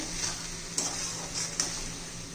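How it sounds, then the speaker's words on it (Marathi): Bottle gourd zunka mixture stirred in a pan, a steady scraping sizzle with a few sharper spoon-against-pan clinks, close and alone. "आता हे सर्व आपण मिक्स करून घेऊया."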